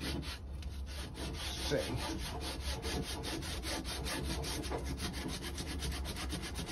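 A cloth rubs hard against a chrome BMX wheel to polish it, making fast, even back-and-forth scrubbing strokes close by. One brief spoken word is heard.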